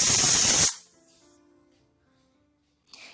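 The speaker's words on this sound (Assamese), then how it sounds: "কুকাৰৰ পৰা গেছখিনি নিজে নিজে নোহোৱা হৈ গৈছে" A pressure cooker of chana dal lets out a loud, close hissing burst of steam for under a second, then falls away to near silence, with a faint hiss returning briefly at the end.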